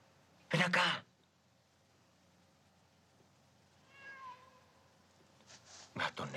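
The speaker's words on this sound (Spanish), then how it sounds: "Gato necio." A cat meows once, a short, faint wavering call in the middle, between two sharp loud bursts of noise, with a quiet background and brief speech near the end.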